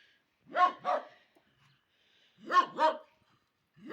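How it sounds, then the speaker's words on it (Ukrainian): A dog on a Ukrainian farmyard barks in two quick double bursts a couple of seconds apart, close and clear against a quiet background, with no talking between them. "Ти гавкаєш, да? Ти гавкаєш, да?"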